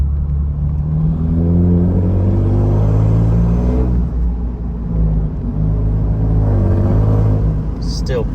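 Turbocharged Toyota Tundra engine fitted with a K&N air intake, heard from inside the cab with a window lowered: a steady low rumble and hum throughout, fairly quiet, with a voice talking over it.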